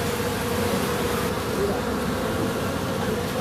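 Honeybees buzzing around a hive as the beekeeper works, a steady, dense drone that holds evenly from start to finish with no voices.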